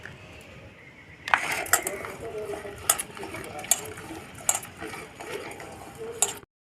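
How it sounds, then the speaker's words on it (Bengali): A wok is rinsed with water at home while papaya and potato curry is being made, giving a steady running-water wash close by, broken by sharp metallic clinks and knocks roughly every second. "কড়াইটা ধুয়ে"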